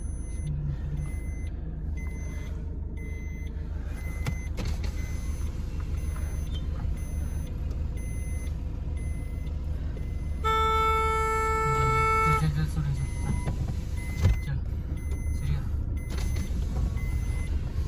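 A stuck car manoeuvres to get free. A steady engine rumble runs throughout, a sustained horn-like tone sounds for about two seconds midway, and a sharp knock comes near the end.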